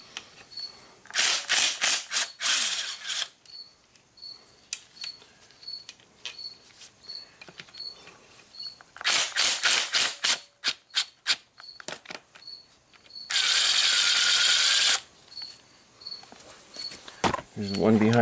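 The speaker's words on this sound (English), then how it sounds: "So all we got to do is remove 6 bolts around the perimeter." Power tool spinning out bolts from the front driveline piece of a Suzuki XL-7 4x4, several short whirring bursts separated by pauses, one long steady whine, close and loud, with a voice speaking between them.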